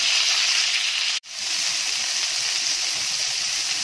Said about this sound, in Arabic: وهحط شوية تانيين وارجع لكم بعد ما اخلص واحمرها كلها